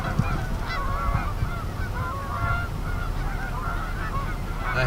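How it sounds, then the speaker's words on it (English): A flock of geese in a Wisconsin field honks constantly, with many overlapping calls at a middle distance against a steady outdoor background and no speech. "saw a whole bunch of geese dumping into this field that you can see here."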